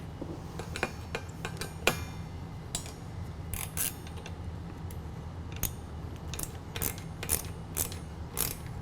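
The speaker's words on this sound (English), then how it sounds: "Then grab your number 2 Phillips driver, a 17 or a 7/16 wrench," A wrench tightens the locking nut on the sport bar of a soft top on a 2014 Jeep JKU, giving a series of close, quick metallic ratcheting clicks and taps over a low background hum.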